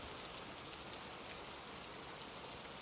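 Rain falls outdoors in a steady, even hiss of drops, soft and continuous for the whole stretch, with no talking.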